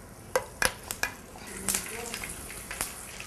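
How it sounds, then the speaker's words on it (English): Stuffed jalapenos slide into hot frying oil, giving a soft sizzle with several sharp pops and clinks near the start, fairly quiet and close, with no talking. "The oil is hot enough now. I'm going to gently place the jalapenos."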